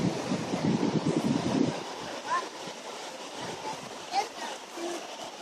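Wind buffets the microphone over steady surf on a beach during kite flying, a soft, continuous wash that is loudest at the start and quieter after, with voices nearby.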